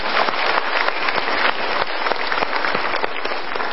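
A studio audience at an Indonesian motivational talk show claps together in sustained, even applause, full and close, with no voices rising above it.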